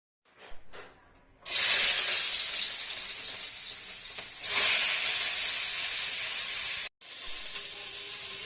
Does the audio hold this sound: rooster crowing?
no